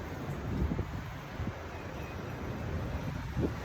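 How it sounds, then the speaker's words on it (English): Wind rumbles and buffets steadily against the microphone outdoors during a yoga session in Cambodia, a constant low roar with occasional gusts. "Oh, that wind."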